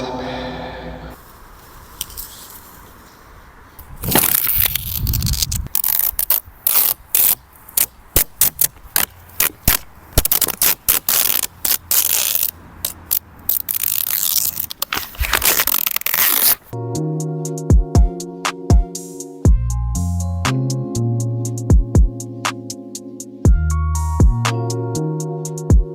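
Blade trimming the edges of a windshield sun-strip film, quick crisp cutting and scraping strokes in rapid bursts, close and loud, with a stretch of tonal background music in the second half.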